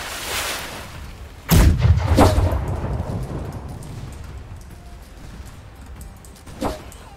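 Ship cannons fire during a naval battle in the video game Blackwake: one loud, close boom with a rumbling tail, then a smaller, more distant shot a few seconds later.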